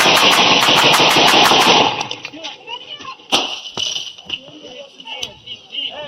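Sharp rapid burst of gunfire from a shooter during a police confrontation, about ten loud shots close together, followed by scattered single cracks and clatter as officers shout.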